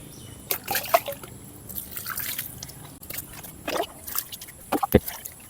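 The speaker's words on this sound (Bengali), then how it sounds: "এই রুট বলের উপরে এবার আমরা আস্তে আস্তে জল দেব অর্থাৎ এই গ্রো ব্যাগটাকে পুরো আস্তে আস্তে জল দেবো ভেজাবো" Water poured slowly onto a mango tree's root ball in a grow bag, giving soft intermittent drips and trickles with a few brief splashes, close and fairly quiet.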